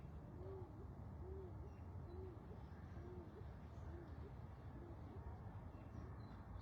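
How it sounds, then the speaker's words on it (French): Soft, repeated hooting calls of a bird, evenly spaced, sound faintly over a steady background hiss. "Oh, vous entendez les oiseaux?"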